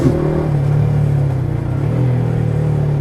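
A 2024 KTM Duke 200 motorcycle engine running close by, holding a loud, steady mid-pitched rumble with slight swells in revs across a few seconds, heard alone without talk.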